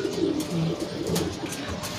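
Pigeons coo softly in a loft, with low, rolling, overlapping calls repeating steadily over quiet background noise.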